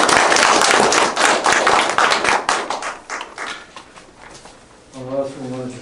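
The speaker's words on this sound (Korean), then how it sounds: "다시 한번 박수 부탁드리겠습니다" Audience applause at the close of a lecture: dense, loud clapping for about three seconds that thins and fades, followed by a brief low hum at the end.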